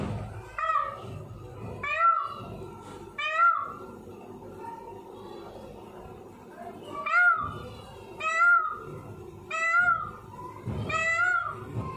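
A peacock gives a string of loud, wailing, meow-like calls, about eight in all, with short pauses between them.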